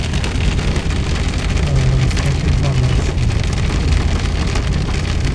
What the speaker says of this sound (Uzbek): Yomg'irli havocha bir mazada yomg'irli havoga aylanish